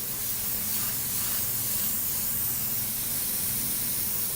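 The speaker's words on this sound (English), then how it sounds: "I'm not even spraying it that wet" Spray gun laying down candy yellow-green paint, a steady continuous hiss of atomized spray close by, unbroken for the whole stretch with no voices.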